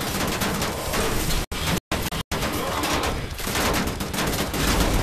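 Gunfire in Wolfenstein: The New Order, a dense, loud barrage of rapid automatic shots that continues almost unbroken, with a few brief silent gaps.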